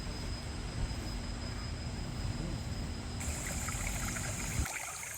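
Spring water trickles beside a lake at a national arboretum in Pocheon in July, a steady close babbling flow that continues without talk and drops away abruptly near the end.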